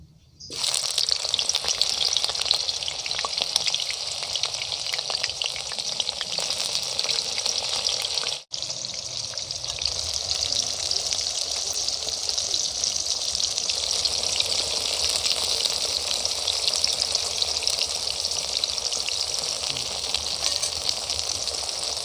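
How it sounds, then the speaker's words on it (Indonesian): Tempeh frying in hot oil gives a loud, steady sizzle that runs continuously, with one brief dropout partway through before the crackling resumes. "Kita goreng tempenya ya."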